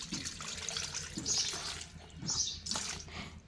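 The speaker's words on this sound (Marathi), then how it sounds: "आवळाचं लोणचं करण्यासाठी ह्याच्यात पाणी ओतते" Water is poured into a pot for making amla pickle, a soft splashing gurgle in several uneven bursts, fairly quiet and close.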